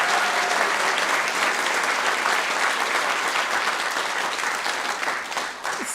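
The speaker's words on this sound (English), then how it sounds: "Let's give them all a round of applause" People at a Santa Ana City Council meeting applaud youth water poster contest participants with dense, continuous clapping that is loud at first and eases slightly near the end.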